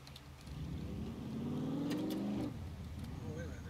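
A car engine in the video game SCUM hums steadily and revs up, its pitch climbing then dropping off, with talk faintly underneath.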